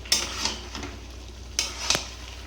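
Malabar spinach sautéing with cumin and chili powder in a pan, a low steady sizzle broken by a few sharp scraping stirs of a utensil, close and moderately loud with no talk.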